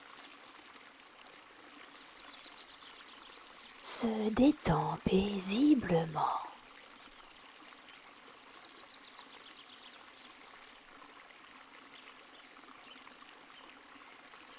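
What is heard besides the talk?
river water flowing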